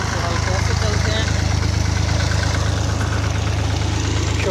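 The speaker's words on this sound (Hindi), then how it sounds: "और ट्रैक्टर से हल कैसे चलते हैं" A tractor engine drones loud and steady while pulling a plough through a field for wheat sowing, with a constant low rumble close by and no pauses.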